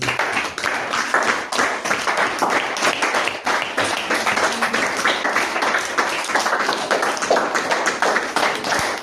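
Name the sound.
congregation applauding for the Lord Jesus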